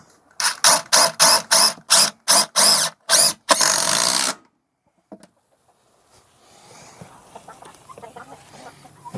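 A screw gun drives 2.5-inch screws into a wall while a chicken nesting box is being built: about eight short, loud motor pulses in a steady rhythm, then one longer run, close by, followed by quiet handling noise.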